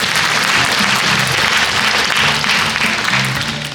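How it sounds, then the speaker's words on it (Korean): Loud, sustained applause from a seated audience at an academic conference, dense continuous clapping for several seconds with faint voices underneath. "힘찬 박수 부탁드립니다."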